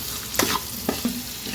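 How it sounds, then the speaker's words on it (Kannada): Onions fry in a pan with a continuous close sizzle, broken by a few sharp scrapes and taps of a spoon stirring them. "ಇದು ಈರುಳ್ಳಿ ಸ್ವಲ್ಪ ಫ್ರೈ ಆಗಿದೆ ನೋಡಿ"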